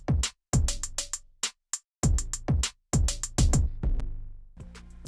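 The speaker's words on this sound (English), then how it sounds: "So the kicks, I also layered with an 808" Layered kick drums reinforced with a deep 808, part of a hyperpop remix beat, thumping in a steady rhythmic pattern with brief gaps, booming low end and sharp attacks, loud and alone.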